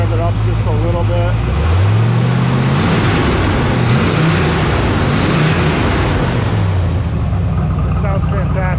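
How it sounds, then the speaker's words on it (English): The V8 engine of a 1967 Corvette C2 convertible rumbles up close and rises in pitch through a couple of revs before settling, with a voice speaking over it. "So I'm gonna rev it up just a little bit."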